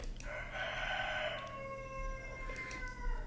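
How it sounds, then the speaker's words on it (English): A rooster crows a single long cock-a-doodle-doo, loud and fairly close, standing alone over a steady low background hum. "The cock-a-doodle-doo of impending doom"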